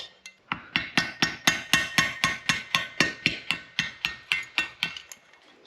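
Rapid, evenly spaced metallic taps, about seventeen in a row, as a thin screwdriver is struck against a stuck valve lifter in a Honda CBR engine's cylinder head, close and ringing, fading out at the end.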